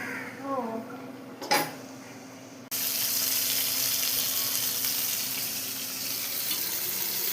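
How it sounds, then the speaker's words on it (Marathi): Fish fries in a pan in a home kitchen for a Malvani recipe. Someone speaks briefly, then a sudden loud, continuous broadband sizzle takes over and holds steady to the end. "हे रिशिता मा मासे तळून दाखवताला"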